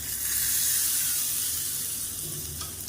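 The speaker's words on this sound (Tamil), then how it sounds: "இப்போ இதில் தாளிப்பு சேர்த்துக்கலாம் கடுகு உளுந்து கருவேப்பிலை பெருங்காயம் போட்டு தாளிச்சிருக்கேன் அதை சேர்த்துக்கலாம்" A hot tempering of mustard seeds, urad dal, curry leaves and asafoetida in oil is poured into horse gram chutney, releasing a loud, bright sizzling hiss that slowly fades over a few seconds.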